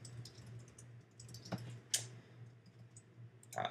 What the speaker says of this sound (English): We can type in our text